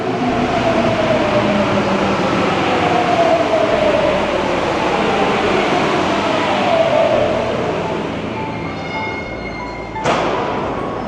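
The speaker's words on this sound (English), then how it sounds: "This looks to be like one of the more modern trains." A modern Paris Metro train with automatic doors rumbles steadily through a station, a loud continuous roar with a falling whine, easing near the end before a sharp thump and a brief high chime.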